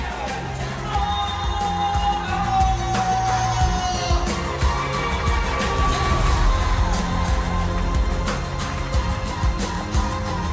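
Arena crowd at an MPL Malaysia Season 16 esports match cheering and applauding for team Todak, a dense, steady roar of whoops and yells with music underneath, loud and sustained throughout.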